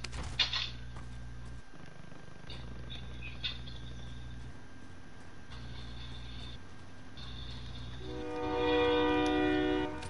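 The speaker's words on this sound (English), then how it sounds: "Train? I ain't been on the game since they got the train." A passing train in the Call of Duty Warzone video game, a steady low rumble under game sounds, with a louder rolling rise near the end.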